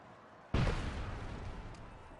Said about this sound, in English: We got to fire the cannon there.